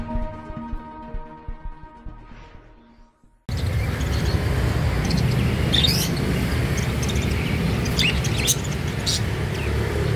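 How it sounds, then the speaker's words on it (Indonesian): Local parakeets chirp densely in a bird kiosk, a loud, continuous chorus of overlapping tweets that follows a short stretch of quieter tonal sound. "menampilkan burung parkit lokal dan berbagai jenis burung yang ada di kios ini"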